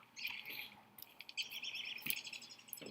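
Birds chirp in quick bright tweets in the video game Don't Starve, repeated calls overlapping at a moderate distance over a quiet background.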